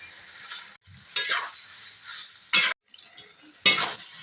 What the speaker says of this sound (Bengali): ঝিনুকটা ভালো করে কষিয়ে নিয়েছি